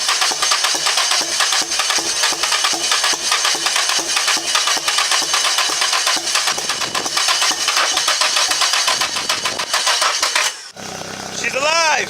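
An SR20-swapped Nissan S13 coupe is cranked over and catches on its first start, settling into a loud, steady idle close by, with a sharp chirp near the end as the engine keeps running.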